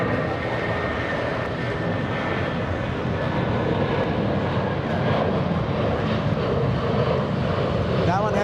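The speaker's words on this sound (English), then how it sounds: "That one had to be climbing like a rocket launch." A United Airlines Boeing 757-200 jet taking off from LAX, climbing steeply, sends out a constant, heavy roar that fills the whole stretch, with voices talking faintly underneath.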